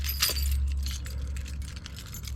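A set of keys jangles and clinks as a Toyota Land Cruiser 100 speaker trim is pried out, a bright metallic rattle near the start followed by lighter scattered clicks over a low car interior hum.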